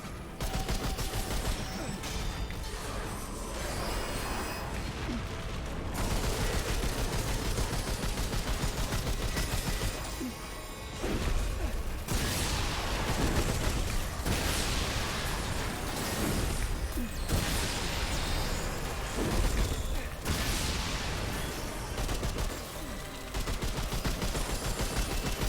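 Rapid, dense gunfire from weapons in the video game Remnant II, loud sustained bursts and fusillades with short pauses and mechanical clacks in between, with occasional talk.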